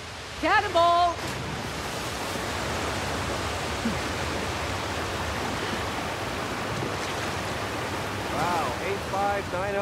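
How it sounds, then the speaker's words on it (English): A waterfall roars steadily in the video game Uncharted: The Lost Legacy, a broad rushing wash of water throughout, while characters speak briefly at the start and near the end. "careful! Waterfall!"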